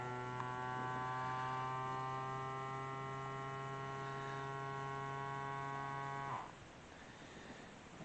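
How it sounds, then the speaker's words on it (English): A vacuum sealer drawing the air out of a bag of corn: a steady, tonal motor hum that runs evenly for several seconds, then cuts off into a quieter, softer hiss as sealing begins. "Hit vacuum seal. You can see it sucking in, sucking all the air out of it."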